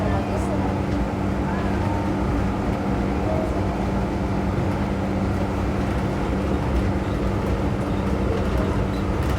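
Steady, continuous rumble of an open safari train rolling through Dubai Safari Park, with people talking over the constant engine and wheel noise.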